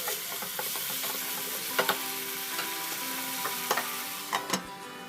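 A spoon stirs potato rice in a hot pan over a constant soft sizzle, making scattered scraping clicks and taps against the pan. The sound is close and fairly quiet, with no talking.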